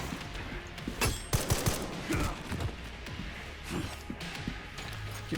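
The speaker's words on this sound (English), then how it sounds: "Actually, I'm gonna try shooting him." Gunshots in Resident Evil 9, a few sharp loud shots and thuds clustered early, then quieter scattered impacts over game ambience.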